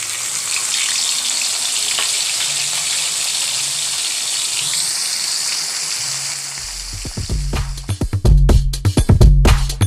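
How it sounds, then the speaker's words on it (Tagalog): Dried salted fish (tuyo) frying in a little hot oil gives a steady dense sizzle, then turns louder and crackly near the end with sharp spattering pops and low knocks from the pan. "So, piprito natin yung tuyo natin."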